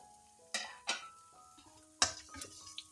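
Shallots and garlic fry in a little oil in a pan previously used for anchovies, with a soft sizzle under scattered sharp clanks and scrapes of a utensil stirring against the pan.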